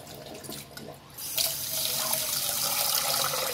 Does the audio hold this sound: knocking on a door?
no